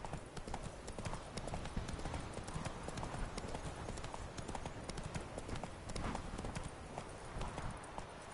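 Roach, Geralt's horse in The Witcher video game, clip-clops along in a steady rapid rhythm of hoofbeats, close and fairly loud for the whole stretch.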